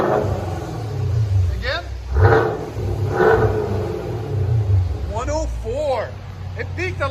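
Chevrolet Camaro fitted with a Flowmaster muffler, a deep steady exhaust rumble that rises briefly with engine revs, while people talk over it close by.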